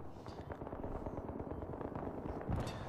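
Rapid bursts of light machine gun fire in Battlefield 3 multiplayer Conquest on Grand Bazaar, dense and continuous with echoing reports and a heavier blast near the end.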